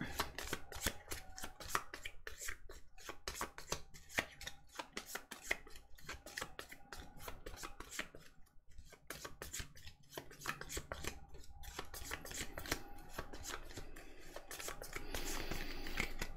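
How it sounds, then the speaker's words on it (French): Four tarot cards are shuffled by hand, a long run of quick, close papery flicks and rustles with brief pauses, fairly soft and with no voice over it. "Pas évident de mélanger 4 cartes."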